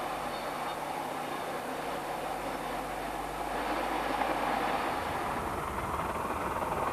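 Steam locomotive hauling a train on the York to Scarborough line, a steady broadband rumble of wheels and exhaust that swells louder toward the end, with no voices.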